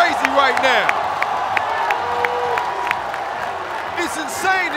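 A large arena crowd cheers and whoops at a FIBA 3x3 World Cup basketball game in the Philippine Arena, Manila, a loud sustained roar with whistles and shouts and a commentator speaking over it.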